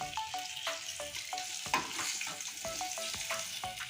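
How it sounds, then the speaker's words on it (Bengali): Fish fried red in hot oil sizzles steadily while a metal spatula scrapes and clinks against the pan again and again as the pieces are lifted out, close and fairly loud, with no voices. "মাছটা কত সুন্দর করে লাল লাল করে ভেজে নিয়েছি এখন আমি উঠিয়ে নিচ্ছি"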